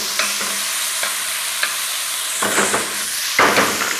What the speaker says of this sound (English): I'm going to squirt that sort of around the sides so that it again caramelizes nicely